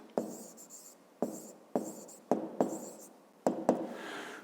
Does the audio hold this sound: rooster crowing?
no